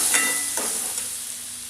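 Moth beans being stirred into sizzling masala of chilli and peanut paste in a pan: a steady frying hiss with a few soft scraping stirs near the start, close and moderately loud, no talking.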